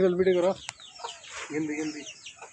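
Chickens clucking in a village yard where poultry is kept, with a few close, short clucks and calls in separate bursts over quiet outdoor background.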